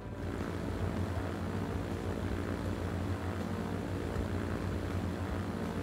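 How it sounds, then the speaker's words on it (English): Propeller airplane in the Transport Fever 2 game, a continuous loud engine drone that holds steady throughout with no talking. "Plane number two is airborne as well."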